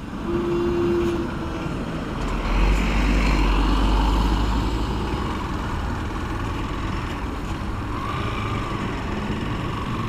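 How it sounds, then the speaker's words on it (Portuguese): Trucks passing along the single-lane MT-130 state highway in Mato Grosso, Brazil, a steady heavy rumble that swells as one goes by and then settles into constant road noise. "Como sempre, o trânsito de caminhões."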